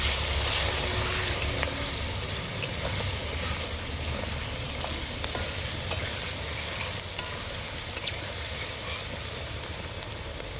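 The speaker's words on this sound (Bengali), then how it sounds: "হলুদ, লঙ্কা, ভালো করে কষিয়ে নেব।" Turmeric, chilli and salt fry in a hot pan while being stirred, producing a steady, close sizzle and hiss with occasional scraping clicks from the spoon.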